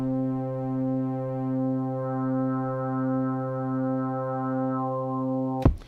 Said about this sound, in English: I'm just after sort of a nice bassy sound